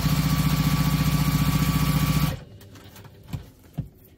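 A sewing machine stitches together the pocket of a crossbody bag with a loud, rapid, rhythmic close-up hum that cuts off after about two seconds, leaving quiet handling clicks.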